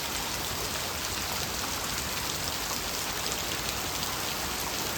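Heavy rain pours steadily outside a house in Chhapi village, Vadgam taluka, a dense, even hiss of drops hitting surfaces, loud and unbroken throughout with no voices.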